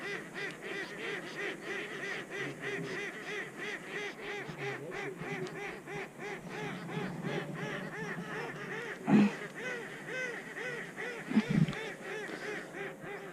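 Ducks and geese honk and quack repeatedly during a duck hunt, a busy overlapping chorus of calls at middle distance with a couple of louder knocks, no speech.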